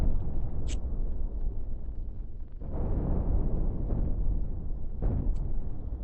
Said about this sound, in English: Cannons are tremendously fast.